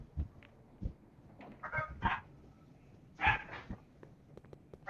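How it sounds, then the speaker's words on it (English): A neighbour's dog next door barks in several separate bursts, sharp and moderately close, spaced irregularly over quiet background with no speech. "Pasensya sa ingay ng aso guys, may tao kasi sa kabila."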